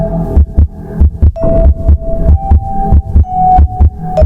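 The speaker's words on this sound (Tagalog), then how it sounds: "Sobrang tahimik na halos marinig ko ang tibok ng puso ko." Heartbeat sound effect, a loud close lub-dub thump repeating steadily about twice a second over a low hum, no voices.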